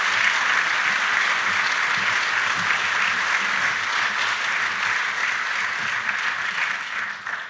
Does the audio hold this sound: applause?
yes